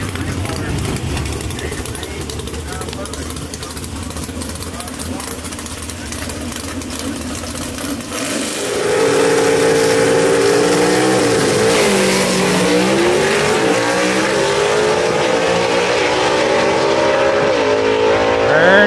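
Southeast Gassers drag race car at Knoxville Dragway, a loud engine idling then revving hard and roaring off the line, close and sustained, under an announcer's commentary.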